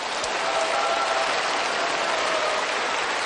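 An audience claps steadily and loudly for several seconds, a dense, even wash of applause from a large crowd at a lecture hall, with no voices breaking through.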